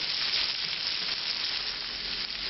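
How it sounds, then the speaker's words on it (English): Vegetables sizzle steadily in a pan being deglazed for a classic French brown beef stock, giving a dense, even hiss at moderate volume. "to deglaze it and try to pick up that fond onto the vegetables"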